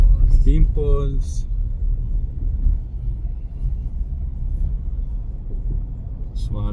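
A car rolls along the road at around 60, its steady low engine and tyre rumble continuous throughout, with people talking over it near the start and again at the end.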